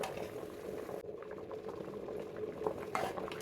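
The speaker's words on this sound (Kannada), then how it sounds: "ಬೇಳೆ ಚೆನ್ನಾಗಿ ಬೇಯಿರೋದು" Lentils (dal) bubbling in a large pot, a soft low burble of boiling water with faint occasional clinks, quiet and close.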